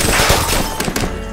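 Dense gunfire from a Turkish war film: a continuous, loud fusillade of overlapping shots with sharper cracks standing out near the end, no voices heard.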